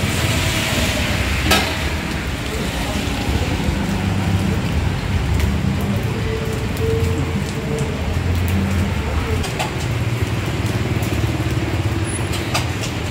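Rain pours steadily on surfaces throughout, a continuous close patter with occasional sharper drips and knocks, while faint voices and low background sounds come and go underneath.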